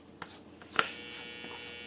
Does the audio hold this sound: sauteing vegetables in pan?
no